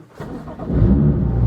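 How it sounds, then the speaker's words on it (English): A BMW M car (M2, M3 or M4 with a Thor M flasher tune) engine cranks and fires up, then settles into a loud, steady rumbling idle close by. "I'm gonna turn my car off for like 5 seconds, wait 5 seconds, and turn it back on."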